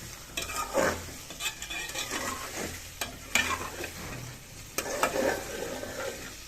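Chicken pieces fry in a pan with ginger, a close sizzle broken by bursts of stirring and scraping as the meat is turned over; no one speaks.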